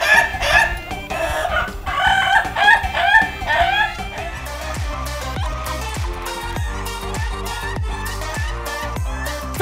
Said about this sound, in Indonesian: dengerin suara ayam berkokok